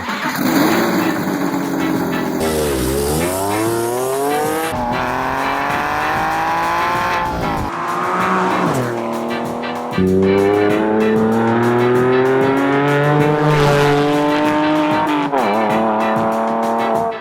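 Porsche 911 sports car engine revving loud and close, pitch sweeping up and down through gear changes with tire squeal, over a steady roar.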